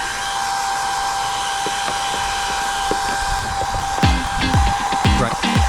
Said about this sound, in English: after using the hair dryer